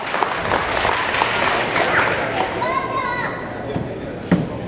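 Steady applause from a crowd at a 2014 kids' outdoors hog hunting event in South Georgia, continuous clapping with children's voices and chatter mixed in throughout.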